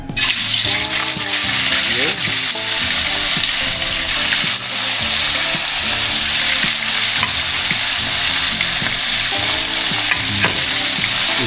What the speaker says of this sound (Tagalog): Magprito po tayo ng ilang piraso.